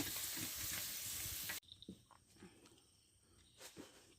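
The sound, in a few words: puris frying in oil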